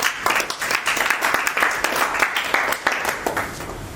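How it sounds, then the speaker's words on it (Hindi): Loud, lively applause from a crowd nearby, many hands clapping in a dense, continuous patter with a few sharper individual claps standing out. "जोरदार तालियां।"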